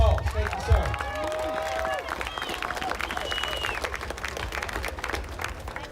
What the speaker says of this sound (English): Let's give Grandmaster J another big round of applause.